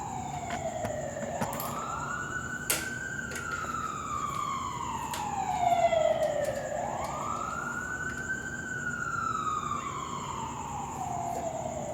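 An ambulance siren wails up and down in slow, rising and falling sweeps as it passes nearby, loud and steady over faint background hum, with no talking.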